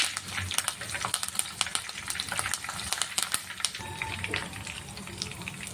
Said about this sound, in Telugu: ఒక మూడు పచ్చిమిరపకాయలు అలాగే కొద్దిగా కరివేపాకు వేసి వేయించుకోవాలి